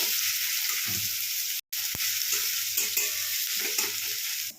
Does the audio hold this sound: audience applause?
no